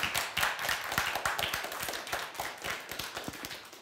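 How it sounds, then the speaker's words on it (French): A small audience claps for a student guest welcomed onto a French TV set, a fairly thin, moderately loud patter of separate hand claps carrying on steadily for a few seconds with no voices over it. "applaudissements pour lui"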